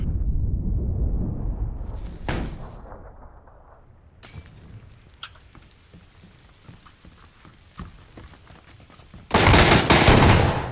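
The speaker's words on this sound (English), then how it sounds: "He's throwing grenades." Grenade explosions and bursts of gunfire in a video game, with a sharp blast early, scattered crackling shots through the middle and a loud sustained burst of fire at the end.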